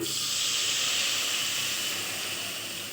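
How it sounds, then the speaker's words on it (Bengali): Water poured into a pan of sizzling fried spice paste for a thin fish curry, giving a loud, steady hiss of steam that fades slightly toward the end. "এবার আমি এখানে জল অ্যাড করে দিচ্ছি"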